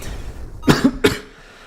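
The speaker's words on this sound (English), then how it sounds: "Sorry about the coughing." A short fit of coughing: two or three rough, close coughs in quick succession, then quiet.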